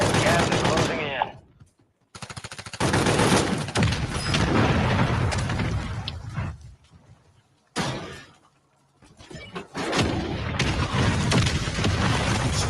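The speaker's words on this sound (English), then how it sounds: "Friendly mortar strike inbound." Friendly mortar strike explosions in a battle royale video game come as a series of heavy blasts with crackling debris. Loud bursts alternate with short quiet gaps, and a few sharp impacts stand out.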